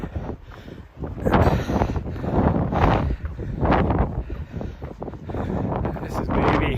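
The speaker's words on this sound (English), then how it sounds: "Ooh, it is windy up top here." Strong gusting wind of about 30 to 35 mph on a mountain top buffets the microphone in loud, continuous roaring surges while a person speaks over it.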